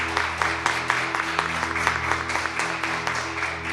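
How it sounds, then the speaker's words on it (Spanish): A church congregation at a Sunday service claps together in steady, rhythmic applause, fairly loud and close, with no speech over it. "así que le damos un aplauso"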